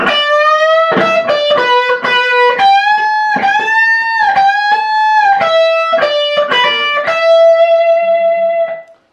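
A distorted electric guitar lick with quick picked notes, upward string bends and wavering vibrato on sustained notes, played loud and alone.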